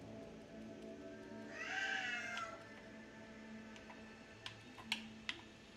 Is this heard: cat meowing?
yes